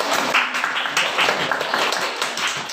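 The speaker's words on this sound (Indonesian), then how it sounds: "kasih tepuk tangan" A classroom of primary-school children clapping together, a dense, steady patter of many small hands that keeps going at even loudness throughout.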